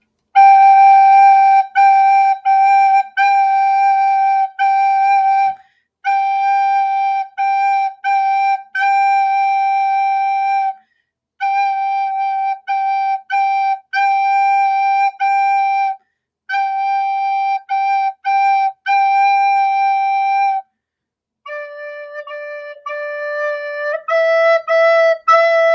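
Soprano recorder playing the top soprano 1 part of a playalong piece, clear bright notes in short phrases with brief pauses between sections, alone and fairly loud, shifting to a different run of notes near the end.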